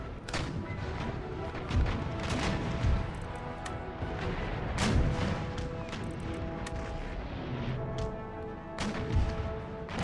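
Naval cannon broadsides in Empire: Total War, a rolling barrage of booming shots and crashes with several heavier blasts standing out, loud and continuous for the whole stretch.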